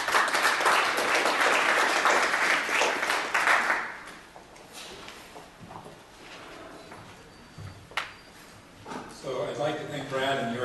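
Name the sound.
audience applause welcoming a speaker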